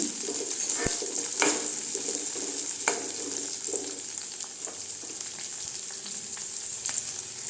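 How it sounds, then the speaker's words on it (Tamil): Onions and chillies sautéing in a pan while mango pachadi is being made, giving a steady close sizzle with occasional sharp clinks and scrapes of a spoon against the pan. "வெங்காயம் லைட்டாக வதங்கிட்டுங்க"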